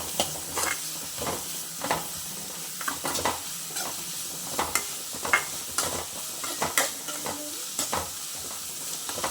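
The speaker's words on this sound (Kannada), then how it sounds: "ಈರುಳ್ಳಿ ಸ್ವಲ್ಪ ಫ್ರೈ ಮಾಡ್ಕೊಳ್ಳೋಣ" Onions frying in a pan for egg curry, a constant sizzle broken by repeated scraping stirs of the spoon, close and moderately loud.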